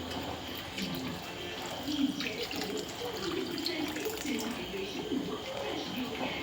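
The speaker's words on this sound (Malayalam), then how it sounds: "ഇനി അടുത്ത 2-ാം പാൽ ഫുള്ളായിട്ട് അമ്മ ഒഴിക്കുന്നുണ്ട്." Second coconut milk poured in a steady, continuous stream into a pot of chickpea payasam, a soft watery rush that holds even across the whole span.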